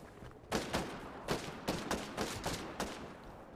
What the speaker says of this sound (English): We're still being shot at, but I killed the one that was behind us.